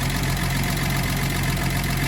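A 1979 Datsun 280ZX engine idles in a steady, unbroken rumble, close and fairly loud, holding one even tone throughout with nobody speaking.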